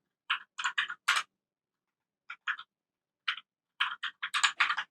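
Fingers tapping out a word on a computer keyboard, close, with short bursts of crisp keystrokes separated by brief pauses, then a faster run of clicks at the end.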